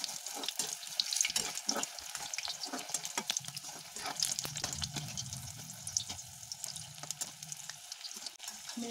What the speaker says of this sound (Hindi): अब अपने मिर्च को हमें बेसन में डिप करके तेल में फ्राई करना है।